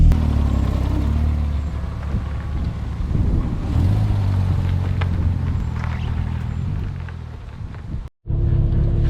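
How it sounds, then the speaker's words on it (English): A damaged Porsche Boxster driving on the road, its engine and road noise a loud, steady low rumble from inside the car that continues throughout, cutting out briefly just before the end. "the noise of the car is so high"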